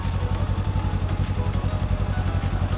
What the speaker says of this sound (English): that fires up the bike in sport mode